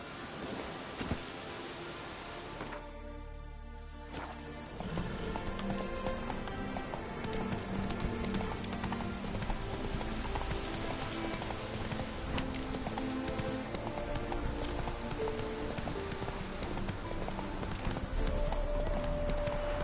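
In The Witcher 3, the horse Roach gallops in a rapid, steady run of hoof clip-clops after a brief quiet gap, continuing close and clear to the end.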